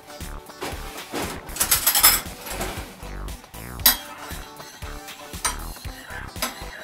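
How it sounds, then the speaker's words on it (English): A spoon clinks and scrapes against a bowl while red wine vinegar and oregano are stirred into a dressing, giving close, busy, irregular rattling with a few sharper taps. "And I just am going to stir this up."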